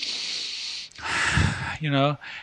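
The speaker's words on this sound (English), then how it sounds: "We're going to take some deep breath" A person takes a deep breath, a long breathy inhale followed by a short voiced exhale sound, heard close and alone.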